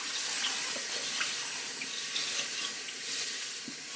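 Kitchen tap water runs steadily and close, splashing into a sink as fat is rinsed from browned taco meat, a continuous hiss with no talking.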